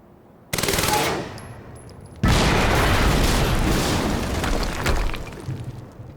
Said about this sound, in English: Gonna use my gun.